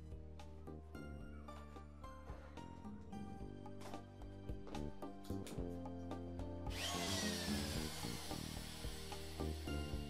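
A power tool cuts model aircraft fuel tank filler necks to size in a workshop. Background music plays throughout, and a loud, harsh burst of cutting noise begins partway through and continues to the end.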